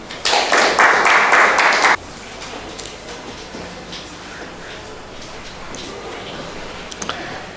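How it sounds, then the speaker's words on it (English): A burst of loud, dense applause from an audience at the launch event of a 2024 rugby sevens tournament. It lasts under two seconds, then drops to quiet room noise with a few faint clicks. "A round of applause for him."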